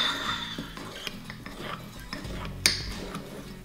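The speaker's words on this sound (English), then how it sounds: "And then we must mix it." Vanilla mug cake batter mixed in a mug, a run of light clinks and scraping spoon strokes against ceramic with one sharper knock, close and moderately quiet, no voices present.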